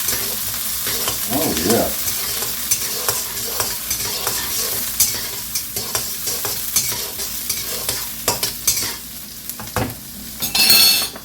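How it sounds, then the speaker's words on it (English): Shrimp fried rice stirred in a hot skillet or wok: a steady sizzle with repeated scraping and clacking of a utensil against the pan, close and fairly loud, with a brief spoken exclamation near the start. "Let's stir these around."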